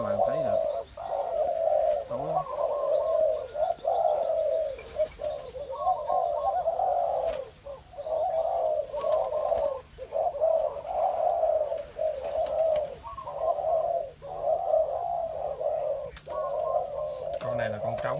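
Male dove, a mutant form of a spotted dove, coos in repeated rhythmic phrases close by, steady throughout with brief pauses, while someone talks over it at times.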